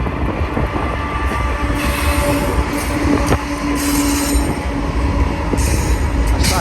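A BNSF freight train rolls past at Blue Cut in Cajon Pass, a loud, continuous rumble of railcars with wheel squeal and clacking, with no talking.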